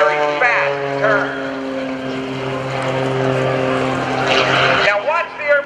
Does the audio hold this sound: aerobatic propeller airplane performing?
yes